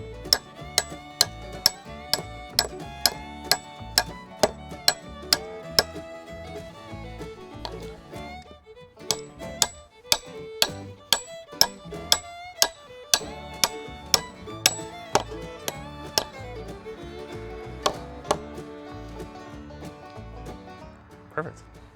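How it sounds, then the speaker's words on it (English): Sharp metallic hammer strikes ring out in a steady, evenly spaced rhythm as brace pins are driven into an H-brace for horse fencing, dozens of blows close by with a short pause midway. "now we'll hammer them into place"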